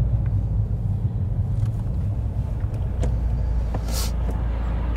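Steady low road rumble of a BMW car rolling past on a street outside a church, a continuous near engine and tyre drone with a brief hiss partway through.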